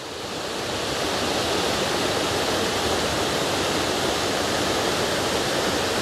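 A woodland waterfall rushes steadily, a dense broadband roar of falling water that swells slightly in the first second and then holds constant and loud, with no voices or other sounds.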